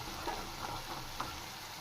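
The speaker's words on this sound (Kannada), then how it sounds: "ಎಣ್ಣೆಯಲ್ಲೇ ಒಂದು 2 ನಿಮಿಷ ಚೆನ್ನಾಗಿ ಫ್ರೈ ಮಾಡಬೇಕು" Chickpeas and green peas fry in hot oil in a pan with a soft, steady, fairly quiet sizzle and no talking.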